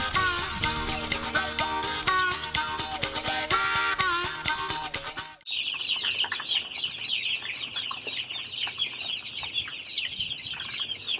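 Chickens on an urban micro farm clucking and calling in a busy, overlapping chorus, with occasional wing flaps, following a stretch of loud music that cuts off abruptly.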